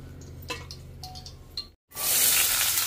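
Malvani onion hits hot oil in a pan after a few clinks of a utensil and a brief silence, setting off a loud, steady, close sizzle that fills the rest of the moment.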